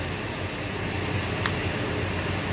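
An electric fan runs steadily in a home kitchen during cooking, giving a constant broadband whoosh of moving air that holds level throughout with no talk, apart from a faint brief click near the middle.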